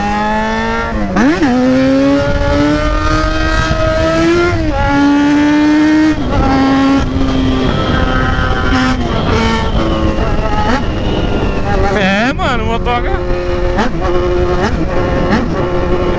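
A Yamaha XJ6 motorcycle accelerates hard toward top speed, its engine note climbing loudly through the gears with brief dips at each shift, continuous and close throughout the run.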